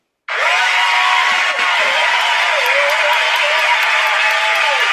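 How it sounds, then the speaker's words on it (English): Loud, sustained applause and cheering from a live audience welcoming the artist Priicy onstage, starting abruptly and holding dense and steady with whoops mixed in, close and full. "It's a long applause."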